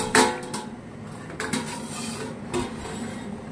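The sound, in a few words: lifting the lid off a cooking pot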